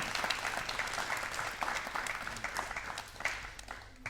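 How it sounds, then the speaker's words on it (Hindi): An audience at a music programme claps warmly to welcome a guest, a dense patter of applause that is moderately loud and continuous before tapering slightly. "कृपया जोरदार तालियों से स्वागत"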